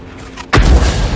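A single loud artillery blast from an M12 self-propelled gun in a video game, one sharp booming shot with a rumbling tail and no talk over it.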